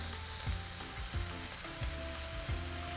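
Duck breast sears skin-side down in a hot pan, a loud, dense, continuous sizzle with soft low thumps recurring every half second or so beneath it.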